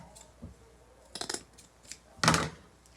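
Scissors cutting material in half for a red, white and blue spiral wreath: a few short, separate close snips, the last the loudest, with quiet gaps between them.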